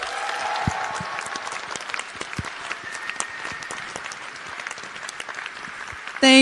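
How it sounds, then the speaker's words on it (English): Applause from an audience at a youth HIV awareness event, a dense, loud crowd clapping that runs steadily for several seconds before a voice begins at the end. "A big round of applause."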